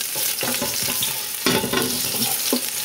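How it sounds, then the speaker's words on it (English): Garlic toasting in garlic oil in a hot pan, stirred with a wooden spoon, a steady close sizzle with knocks and scrapes from the spoon. "If you look down here, you got your garlic toasting"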